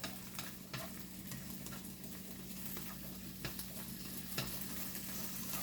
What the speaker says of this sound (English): I already put some olive oil here and then put some green onion to make green onion oil.